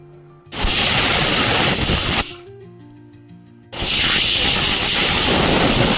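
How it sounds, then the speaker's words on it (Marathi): A pressure cooker on a high gas flame vents steam in loud, close hissing bursts, a long whistle, a brief lull with quieter kitchen sounds, then another sustained blast. "3 ते 4 शिट्ट्या आपल्याला कुकरच्या काढून घ्यायच्या"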